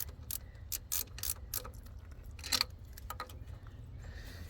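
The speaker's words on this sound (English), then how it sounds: "So I'm going to basically get it snug. Each nut snug." A ratchet clicks in short bursts while snugging nuts on the EGR valve of a 2014 Sprinter-based Leisure Travel Vans Unity, close-up rapid ticking in uneven spurts over a low hum.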